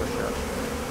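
Bees buzzing in a dense swarm: a continuous, fairly loud droning hum with a steady, close, textured quality throughout the short moment, with no talk.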